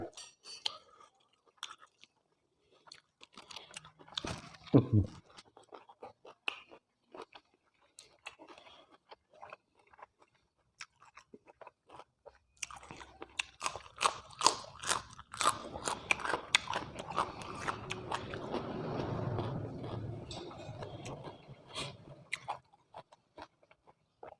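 Close, loud crunching and chewing of Thai red ant egg salad (koi khai mot daeng), with a brief burst early on and then a long stretch of steady, moist mastication and biting.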